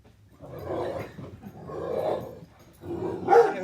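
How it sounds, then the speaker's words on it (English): Two household dogs bark in three separate bursts, close and fairly loud, with no talking. "These are my dogs."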